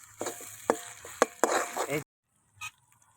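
Green chilies are added to onions frying in a pan for rui fish paratha. They sizzle with sharp stirring clatters and scrapes, then the sound cuts to near silence apart from one brief clink.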